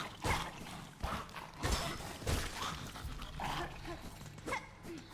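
Roach dog enemies in the Silksong video game bark and yelp in a run of loud, repeated bursts, layered over busy game ambience.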